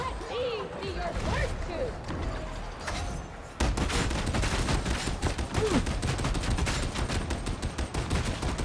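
Twin-linked heavy stabbers fired by an Ogryn in Darktide: scattered impacts and clatter give way to a sustained, dense roar of rapid automatic gunfire close up.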